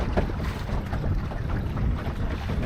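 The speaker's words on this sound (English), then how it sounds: "Definitely a bit more breezy here." Breeze rushes past a small sailing dinghy on Lake Ullswater, a continuous low wind buffet with a steady roar and no voices.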